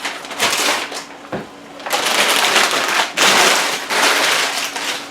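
Wood fire burning in a smoker barrel on a snowy day: a loud, steady crackling hiss with surges and dips, and no voices.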